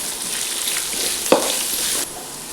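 Onions sautéing in a pan with a pinch of salt, a steady close sizzle with a brief stir scrape midway, cut off abruptly near the end.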